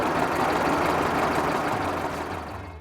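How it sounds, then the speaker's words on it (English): An old Leyland truck engine, number 12320, runs at a steady idle with a dense, low rumble that stays loud and constant before easing off slightly at the end. "There's that great big Leyland engine number 12320."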